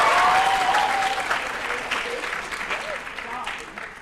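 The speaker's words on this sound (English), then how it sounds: "Let's hear a round of applause." Theatre audience at an annual county Shakespeare competition applauding, a dense crowd of clapping hands that starts loud and slowly tapers off, with a voice faintly heard over the clapping.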